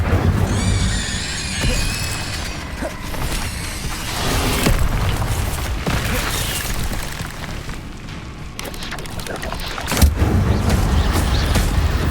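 A fire spell cast in the video game Hogwarts Legacy bursts out as a loud booming, crackling roar that rumbles steadily across the scene, with a sharper impact surging near the end amid ongoing battle noise.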